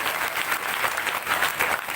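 An audience claps steadily through a Srimad Bhagavat Katha religious discourse, a dense, continuous wash of many hands at moderate loudness with no talk over it.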